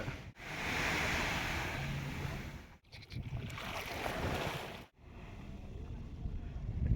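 Ocean waves rushing up a beach behind private villas in Brazil, with a broad, steady roar of surf and wind buffeting the microphone, loud and close, broken by a couple of brief dips.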